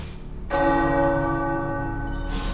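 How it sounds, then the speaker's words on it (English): Tower bells ring in the video game Marvel's Midnight Suns, a loud sustained chime with rich overtones that swells in after a quiet half second and keeps ringing steadily to the end. "The tower bells are ringing."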